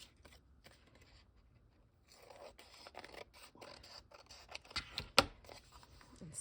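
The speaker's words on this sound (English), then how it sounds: "let's just first cut around the cardstock here" Scissors cut around cardstock for a junk journal, giving soft scratchy snips and rustling paper that grow busier after a quiet start, with one sharp click near the end, close and faint.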